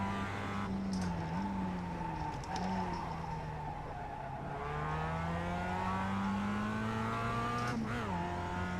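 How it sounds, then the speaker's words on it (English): A race car engine in the iRacing sim, a continuous buzzing drone with rising pitch sweeps and sharp drops as gears shift up, heard steadily and moderately quiet with no voices. "Little upshift just to settle the car."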